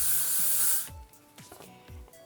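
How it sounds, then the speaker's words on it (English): A can of hairspray hisses in one loud, steady burst onto a ponytail, then cuts off, leaving faint rustling and handling noises. "I'm going to add a little bit of hairspray"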